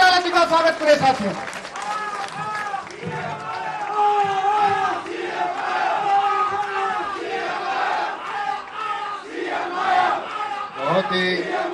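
A large crowd at an outdoor political rally in Balsamand village, Haryana, roars and cheers continuously with scattered clapping, while an amplified voice calls out over the din throughout.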